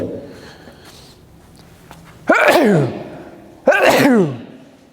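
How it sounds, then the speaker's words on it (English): Two loud, close sneezes come one after the other over quiet room noise, with faint movement before them. "I have to sneeze in a bit."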